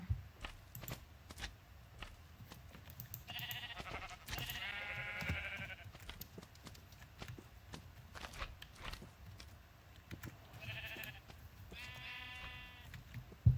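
Two short bursts of sheep bleating in Minecraft, a few seconds apart, over soft shuffling and footstep-like sounds.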